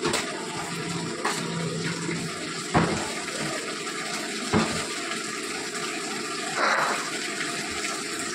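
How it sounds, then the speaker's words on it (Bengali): Water from a rinsed yogurt bowl poured into a pan of Bengali boal fish korma, a continuous splashing gush with a few sharp knocks, close and moderately loud. "দই বাটিটা ধুয়েই জল দিলাম যাতে মশলাটা না লেগে যায়।"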